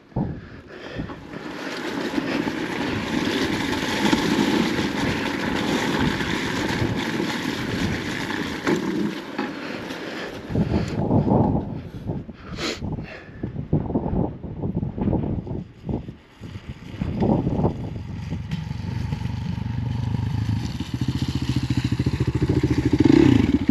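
Off-highway vehicle riding down a slick, snowy trail at Stonyford OHV, its engine droning steadily with heavy wind buffeting the microphone, then dropping into rougher bursts and rattles before the motor builds again near the end.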